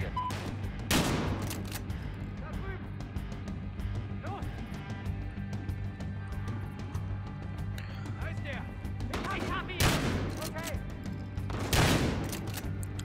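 Gunfire in the video game Battlefield Hardline, with a few sharp, loud bursts spaced several seconds apart over steady game ambience, alongside someone talking.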